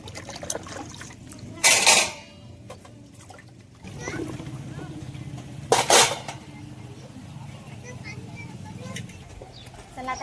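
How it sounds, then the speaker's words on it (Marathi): Two sharp bursts of splashing water as amaranth greens are washed, separated by quieter stretches with voices talking nearby. "चला मग आता भाजी पण धुवून घेतो"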